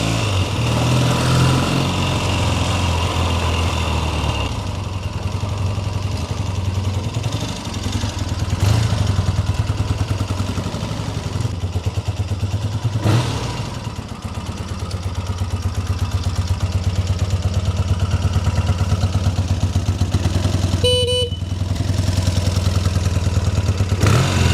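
A 1976 Triumph T140V Bonneville motorcycle rumbles loud and steady on a ride, its engine note rising and falling gently with throttle changes, continuous throughout with wind noise and no talk.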